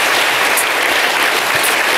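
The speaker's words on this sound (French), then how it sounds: "On l'applaudit encore." A TV studio audience on France 2's Vivement Dimanche applauds a singer in 2003 with steady, dense clapping that fills the whole stretch at an even loudness.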